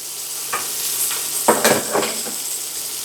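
Chicken livers fry over high heat in a Netherton Foundry Prospector pan, a steady loud sizzle with stirring and scraping against the metal in the middle, close up and without talk.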